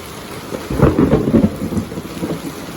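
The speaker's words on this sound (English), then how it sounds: "It was just pouring rain." Heavy downpour pours steadily with a low rumbling swell in the middle, loud and close, no thunder, no voices.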